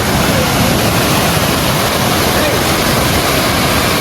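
Honnammana Halla waterfall in full monsoon flow, a loud, dense, unbroken rush of falling water filling the whole space evenly, steady from start to finish with no pauses.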